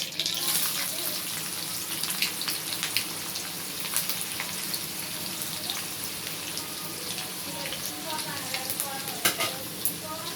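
Chopped onion fries in a pan with bay leaf, giving a steady, close sizzle broken by repeated scraping stirs and clinks, with a faint watery hiss underneath.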